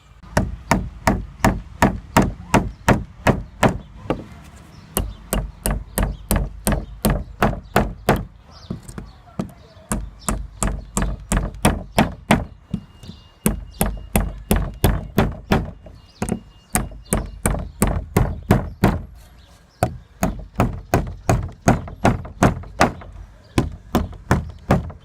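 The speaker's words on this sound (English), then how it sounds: "I'm just going to knock all these nails flat and then stand it out of the way before I make the other side" Pallet nails are hammered flat with steady, rapid blows, the sharp strikes coming in bursts separated by short pauses. Every hit is loud and close, ringing on for the full stretch with no talking.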